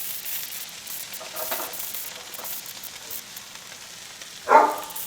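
Tri tip steak searing in a hot pan gives a steady, fairly quiet sizzle throughout, with a louder burst of hissing near the end as the meat shifts or flips; no one speaks.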